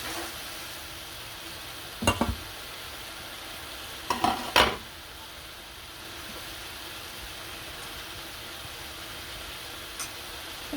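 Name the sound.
spice paste frying and stirring in pan for boal fish curry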